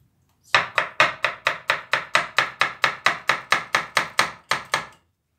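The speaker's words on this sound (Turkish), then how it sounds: "Şimdi sarımsağımı doğrayacağım soğanla beraber." Garlic being chopped together with onion on a cutting board for a chicken mushroom sauté, a rapid, evenly spaced series of about eighteen crisp knife chops, close and clear with no talk, stopping abruptly.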